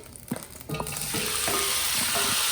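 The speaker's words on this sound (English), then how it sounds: "This is sizzling here. Let's put our chicken" Chicken drops into a hot frying pan with a few clunks, then a loud, steady sizzle fills the space up close, with occasional stirring knocks.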